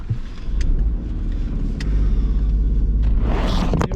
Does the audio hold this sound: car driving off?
yes